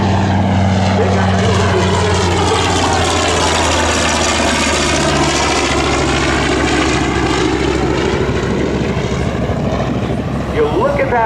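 A TBM Avenger, a World War II propeller torpedo bomber built by General Motors' Eastern Aircraft Division, flies past at an airshow. Its loud engine drone swells, and the pitch sweeps as the plane passes, with a commentator talking over it.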